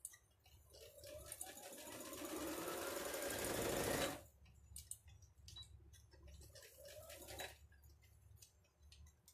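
A sewing machine stitches a seam on wine-coloured fabric for a rag doll, running in two bursts: a long steady whir, a pause, then a shorter run, close and clear.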